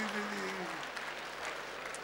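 Audience applause at a 2016 New Year's show-concert, a broad, steady wash of clapping filling the whole stretch at even loudness, with a faint tonal voice fading out near the start.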